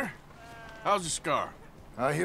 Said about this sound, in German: Schaf und Ziegen.